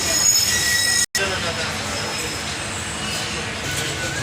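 A crowded passenger train pulls into Ramagundam station, its wheels squealing in high, thin tones over a steady rumble of rolling carriages, loud and close throughout with a brief cut-out near the start.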